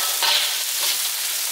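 Garlic fries in a pan while being stirred, a loud, close, bright sizzle that swells briefly with the stirring and then settles into an even hiss.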